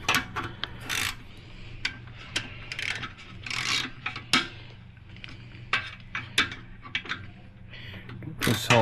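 Hand ratchet tightening the clamps of an S&S exhaust on a Harley Road Glide, a series of short, sharp clicking bursts at an irregular pace, fairly close and quiet.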